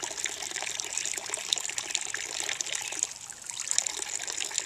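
Water trickles steadily from a bamboo fountain pipe, a close, continuous splashing dribble with no talking.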